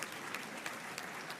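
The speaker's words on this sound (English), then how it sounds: "Clap for my society." An audience claps steadily at a university investiture ceremony for a new vice-chancellor, moderately faint, dense applause with a few slightly sharper claps standing out.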